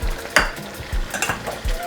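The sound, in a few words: habaneros stirred into sizzling pork masala in pan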